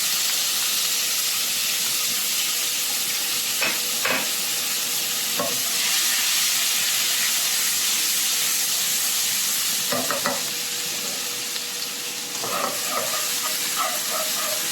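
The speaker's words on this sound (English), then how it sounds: "Now I am going to saute my bawang putih and bawang merah" Garlic and shallots sauteing in hot oil, a loud continuous close sizzle with occasional scraping stirs and light clinks of a utensil against the pan.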